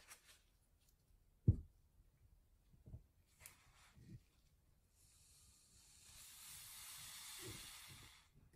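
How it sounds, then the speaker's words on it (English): A lubricant spray can hisses into the head of a Surgic Pro implant motor, a soft steady spray lasting a couple of seconds after scattered quiet handling clicks and taps, faint and close. "Hold it upright and spray the lubricant for 2 to 3 seconds"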